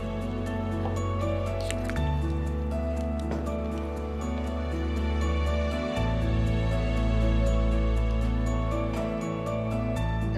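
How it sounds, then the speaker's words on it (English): Thick Christmas cake batter of creamed butter and sugar being mixed with a wet mix containing rum, producing repeated wet squelching and sticky squishes over a steady machine hum, close and continuous. "To this I am going to add the wet mix."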